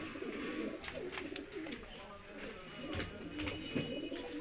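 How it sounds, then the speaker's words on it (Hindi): Domestic fancy pigeons coo nearby in low, throaty, repeated calls, several birds overlapping against a faint background. "ये डब्बा कबूतर और ये मकोया कबूतर है"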